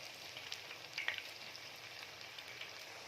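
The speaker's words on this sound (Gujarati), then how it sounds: "બ્રાઉન રંગની થશે ત્યાં લગીને આપણે એને ફ્રાય કરીશું" Finger fries deep-frying in hot oil until brown, giving a faint, steady sizzle that runs unbroken throughout with a few slightly sharper crackles near the middle.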